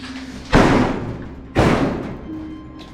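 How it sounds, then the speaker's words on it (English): A metal door at an abandoned Cold War missile test launch site in the desert is forced open, giving two loud, booming thuds about a second apart, each with a resonant decaying tail. "Let's see if we can get this door open."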